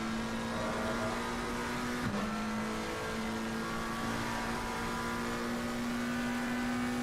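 A GT3 race car in an endurance sim race at Silverstone holds a loud, continuous engine whine, with one quick dip and recovery as it shifts gear, and another car's engine is faintly audible beneath it.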